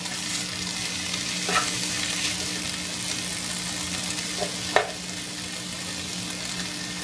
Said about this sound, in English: I'm just going to saute it and let it maybe get a little browning on the nuts.